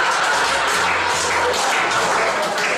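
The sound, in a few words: audience applause for a comedian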